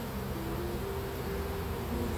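Honey bees around a hive make a dense, continuous buzzing drone close by, with a faint higher hum weaving through it.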